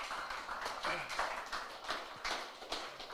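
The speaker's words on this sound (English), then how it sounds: "Let's give a clap offering unto God this morning." A church congregation at a morning service claps a rhythmic offering unto God, a quick, even stream of many hands clapping together, moderately loud and sustained across the whole stretch.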